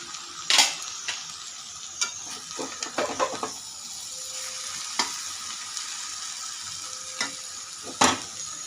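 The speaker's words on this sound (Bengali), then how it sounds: "এক হাতে নাড়ছে আর এক হাতে কড়াই ওদিক ওদিক চলে যাচ্ছে স্লিপ হয়ে।" Fish (bombay duck) frying in a kadai, a steady oily sizzle broken by intermittent spatula scrapes and clacks as it is stirred, one sharp loud scrape near the end; no talk.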